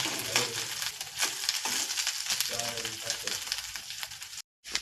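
Vegetables frying in a pan make a dense, close crackling sizzle with irregular stirring scrapes, broken off by a brief silent gap near the end.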